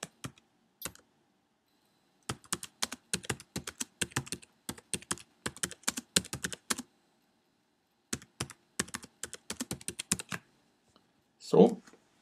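Typing on a computer keyboard while filling in a description field in the FirstClass conferencing software: dense bursts of close key clicks in several runs separated by pauses, ending with a brief louder sound.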